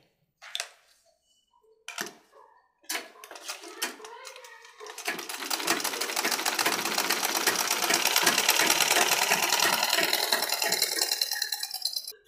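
A sewing machine stitches underwear fabric, starting with a few short bursts and taps, then settling into a continuous rapid clatter that holds loud and near until it stops.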